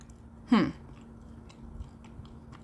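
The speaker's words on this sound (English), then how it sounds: "still chewing." A single crisp crunchy bite into homemade ciabatta bread, close and short, followed by faint quiet chewing.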